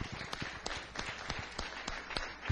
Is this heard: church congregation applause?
yes